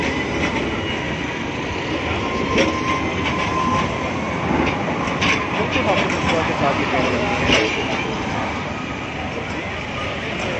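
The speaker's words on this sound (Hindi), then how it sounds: "यहाँ पे वो मेट्रो चल रही है" An Istanbul metro train rumbles and clatters steadily along the tracks, loud and continuous with a rolling mechanical roar.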